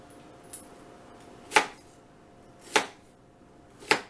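A knife cuts onions thinly on a board for bruschetta, giving three sharp, separate chops spaced about a second apart, close and distinct against a quiet room.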